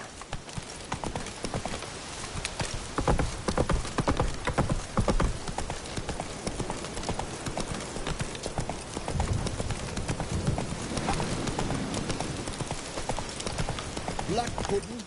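Roach the horse trots along in The Witcher Wild Hunt, hooves clip-clopping in a steady rhythm under ambient game sounds and a faint voice.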